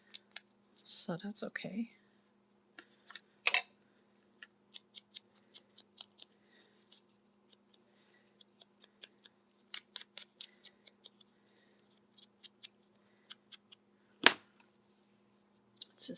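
Scissors snipping paper for a junk journal, a scattered series of crisp close cuts and small paper rustles, with a few brief louder snips amid quiet, and a short spoken remark.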